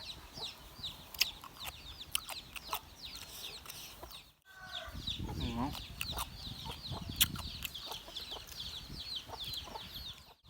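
Hens cluck steadily inside a backyard chicken coop, a busy mix of short clucks and chirps with a louder throaty call in the middle, fairly close and unaccompanied by talk.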